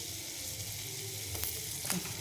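Butter melts and sizzles in a hot kadai, a fairly soft, steady frying hiss with a couple of brief crackles near the end.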